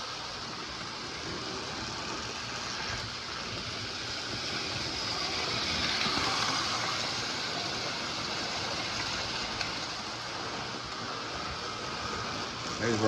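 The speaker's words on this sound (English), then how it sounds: "Get the gang car going here." Lionel postwar toy gang car running on a model train track in a Christmas layout, a steady whirring motor rattle with broadband clatter that swells slightly midway and continues throughout.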